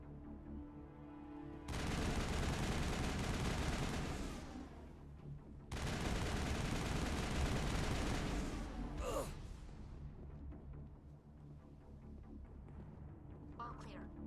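Mass Effect gunfire erupts in two loud, dense bursts of sustained shooting separated by a brief lull, then trails into quieter combat noise with a sharp shot or two near the end.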